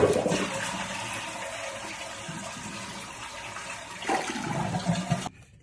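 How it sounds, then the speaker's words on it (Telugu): Water gushes and drains out of a bathroom bidet sprayer setup, a strong rushing flow that swells again near the end before cutting off abruptly. "కంప్లీట్గా ఎంప్టీ చేయాలి ఈ వాటర్ని"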